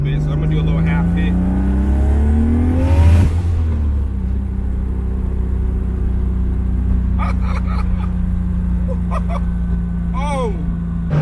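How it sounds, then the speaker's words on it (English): A Lexus LS400 with a swapped 1JZ engine accelerating at half throttle: a loud, rising engine note climbs steadily, then settles into a sustained drone, with a voice briefly exclaiming over it. "I did let the car warm up a little bit, so I'm going to do a little half hit."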